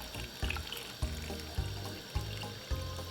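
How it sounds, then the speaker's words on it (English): Water pours steadily into a blender holding chopped carrot for a Thanksgiving roast dinner drink. A watery splash runs under a regular, thumping beat that repeats about every half second. "Pour some water down inside of it like this."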